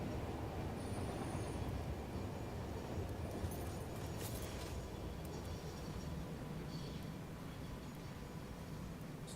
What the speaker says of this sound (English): Train, don't take off without me.